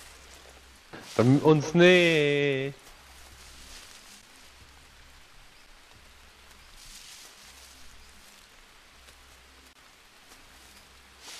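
Rain falls steadily on jungle foliage in the survival game Green Hell, a soft continuous patter under the scene, briefly overtaken by a loud spoken voice at the start.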